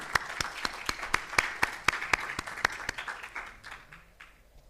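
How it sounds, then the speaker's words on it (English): A small group applauds a keynote speaker at a conference, with crisp, close claps in a fast run that gradually thin out and fade away over a few seconds. "let's have a round of applause for our keynote"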